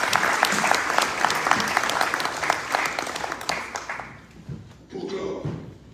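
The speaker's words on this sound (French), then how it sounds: "Applaudissements pour ces deux dames." Conference audience at an international Africa day event at UNESCO breaks into loud, dense applause that fades out after about four seconds, followed by a brief return of clapping and murmur.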